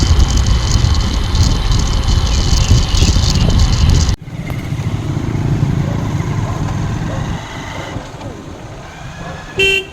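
A motorcycle ride along a busy road, with steady loud engine and wind roar, other traffic passing close by and a short horn toot near the end.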